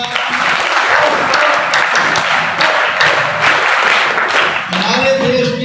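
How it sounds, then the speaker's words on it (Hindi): Dense, sustained applause from a school audience of children at a youth group gathering, loud and steady throughout with a voice briefly audible near the end. "एक बार फिर से तालियां"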